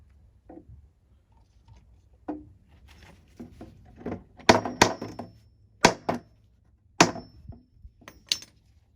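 Several sharp hammer strikes ring out on glued wood joints of a mid-century end table, irregularly spaced, some with a metallic ping, amid quieter taps and handling noises.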